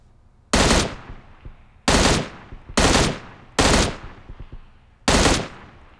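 Five separate bursts of automatic gunfire from a PUBG Mobile match, each a loud, sharp volley lasting about half a second, spaced a second or so apart with quiet between.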